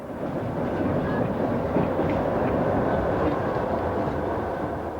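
A passenger train rolls along the rails on an overnight journey in Poland, heard from inside as a steady, dense rumble with faint rhythmic clatter throughout.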